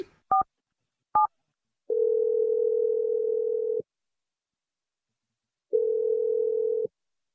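Telephone tones play on a radio show as a call is placed: two short dialing beeps, then two long steady ringback tones separated by a pause of silence. No voices are heard.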